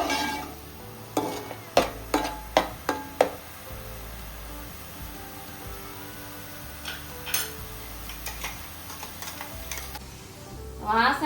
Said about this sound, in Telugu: ఇప్పుడు ఈ మసాలాని పచ్చివాసన పోయే వరకు వేయించుకోవాలి.